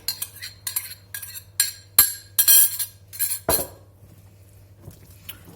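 A spoon stirs raisins soaked in rum in a bowl, producing a quick series of sharp, close clinks and scrapes for a few seconds before falling quiet.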